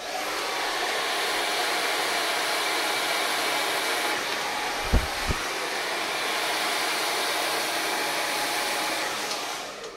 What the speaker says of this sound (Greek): το πιστολάκι μου ακολούθησε τη βούρτσα χωρίς όμως να πιέζει επάνω της